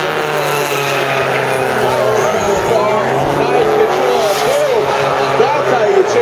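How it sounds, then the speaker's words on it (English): Drift cars battling in a Formula D Pro Am competition at PBIR, engines roaring loudly with tires squealing and skidding throughout, while an announcer talks over the action. "Now Charles Thompson's going to lead as Doug Vanderbrink is going to give chase"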